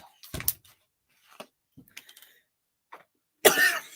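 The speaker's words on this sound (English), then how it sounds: "Clear my throat." Someone clears their throat and coughs: a short rough burst near the start, a few faint throat sounds in between, then a loud, harsh cough close up at the end, with no talking.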